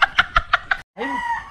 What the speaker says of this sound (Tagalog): Manok naman.